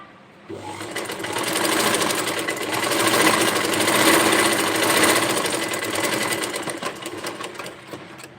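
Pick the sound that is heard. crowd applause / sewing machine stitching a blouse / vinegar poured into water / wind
sewing machine stitching a blouse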